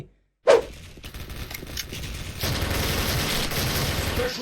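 Rapid bursts of AUG rifle fire in the online shooter Special Force, opening with a sharp loud crack after brief silence and then a dense, sustained rattle of shots continuing to the end.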